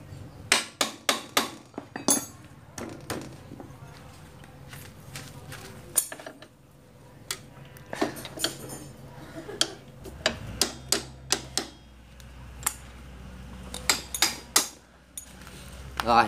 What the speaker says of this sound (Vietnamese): mình đã đóng cái trục nó xiên sang rồi nhá anh em nhá